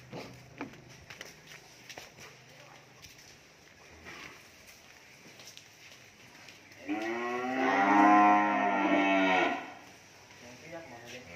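A cow on a cattle farm lets out one long, loud moo lasting a few seconds, preceded by faint shuffling hooves and yard noise, with no voices in between.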